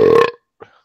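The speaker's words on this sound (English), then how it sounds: "That was a malt liquor burp right there." A loud, close single burp after drinking malt liquor, cutting off sharply and followed by a faint short trailing grunt.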